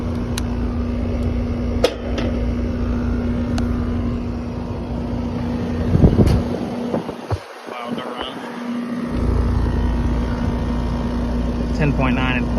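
A central AC fan motor, drawing more than its rated amps, runs with a steady drone and a constant hum, accompanied by brief handling clatter near the middle.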